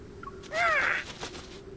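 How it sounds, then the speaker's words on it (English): A crow caws once from a distance in the game Love and Deepspace, a single harsh call rising out of a quiet background hum and then fading, with no voices. "I hear a crow in the distance"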